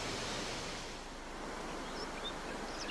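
Broad, steady rush of falling water from a cascade of underground origin in the Hérault gorges near Saint-Guilhem, a continuous roar that fills the whole stretch with no voices.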